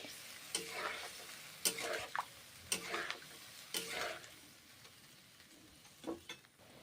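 Spice paste of ground coriander and chilli is stirred and fried in a pan for the Bengali dish of stuffed potol, the utensil scraping in five distinct strokes over a low, steady sizzle, close and fairly quiet, with no one speaking.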